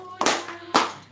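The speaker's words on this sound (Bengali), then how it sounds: "হাততালি দাও" Two sharp hand claps ring out close and loud, about half a second apart, at a cake-cutting anniversary celebration, with a faint steady tone underneath.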